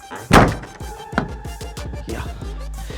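The D-Box cover on an Isuzu D-Max pickup bangs shut with one heavy, close thunk, followed by softer rattles and knocks as it settles.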